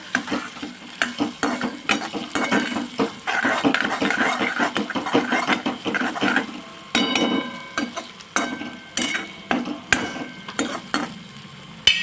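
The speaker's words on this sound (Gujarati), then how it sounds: "હવે આપણે બધું મિક્સ કરી દેવાનું છે" Tomato is stirred into a vegetable mixture frying in a pan for farali suki bhaji, with quick, repeated spatula scrapes and clanks against the pan over a steady sizzle, close and lively.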